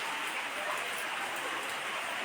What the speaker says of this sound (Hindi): ये बारिश हो रही है बहुत ज़बरदस्त।